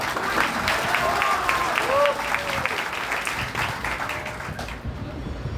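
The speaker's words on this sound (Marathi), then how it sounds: "त्यांच्यासाठी एकदा टाळ्या" An audience claps for a performance by girls at a community event, a dense burst of applause with a voice speaking over it before the clapping cuts off.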